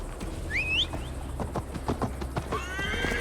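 A horse in Assassin's Creed Valhalla gives a high, wavering neigh, then hooves clop in an irregular run of close hits, and a second whinny rises near the end.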